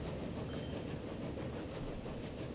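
Constant low rumble of a passing train in a transport simulation game, heavy and continuous with faint rattling of wagons, no voices and no change in level.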